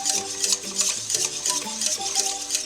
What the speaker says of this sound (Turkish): E, bunu su, ayran şekline getireceğiz. Ayran haline getireceğiz. Altını yakmadan önce pişir, e, biraz çırpalım ki topaklanmasın.